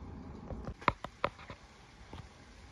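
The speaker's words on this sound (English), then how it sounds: "Whew, yeah, it's pouring." Heavy rain pours down in a small vegetable garden, a dense steady patter with a few sharp, close drops striking nearby surfaces.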